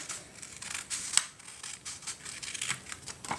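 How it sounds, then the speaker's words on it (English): Scissors cut through paper for a children's craft activity, making a quick series of close, crisp snips and rustles that fall in an irregular rhythm at low volume with no talking. "So I'll show you first how to cut."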